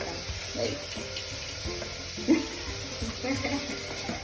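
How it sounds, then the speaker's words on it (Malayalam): Onions sautéing in a pan for chicken curry, a soft continuous sizzle with scattered stirring scrapes and a couple of louder clinks, fairly quiet and close. "നമ്മൾ ഉള്ളി വാട്ടിക്കൊണ്ടിരിക്കുകയാണ്"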